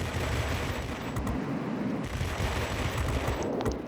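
Aircraft guns on a Me P.1101 jet fighter fire in World of Warplanes, a loud, steady rattle of rapid shots in sustained bursts broken by brief pauses, close and with no talking.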